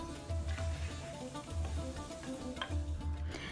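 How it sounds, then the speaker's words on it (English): Spices sizzle in a quarter cup of hot olive oil in a pressure cooker while being stirred, a steady crackling hiss with soft rhythmic scraping pulses from the mixing, close and continuous. "Add the spices and mix for few seconds."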